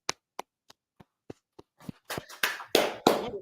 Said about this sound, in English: man, clap it up.